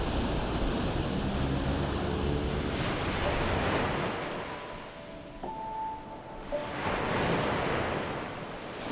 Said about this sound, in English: the endless Atlantic Ocean opens up before you.